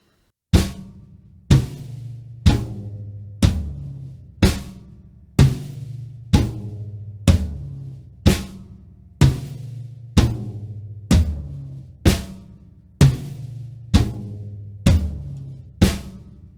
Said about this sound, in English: And lastly, we're just going to play 1 note on each drum.